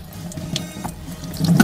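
Tap water runs steadily into a sink while toothpaste is rinsed off a face, a moderate continuous splashing that swells louder near the end.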